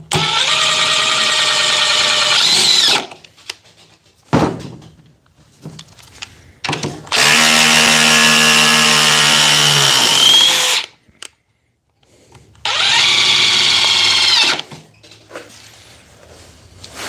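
Milwaukee 2836-20, FLEX FX4111-Z and Dewalt oscillating multi tools cutting in turn, three loud buzzing bursts of a few seconds each with strong harmonic whine, separated by short quiet gaps and clunks.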